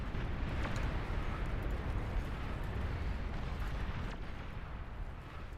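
Dense artillery barrage rumbling continuously in the real-time strategy game Beyond All Reason, a loud, steady wall of low booms and crackling blasts with no gaps, easing slightly toward the end.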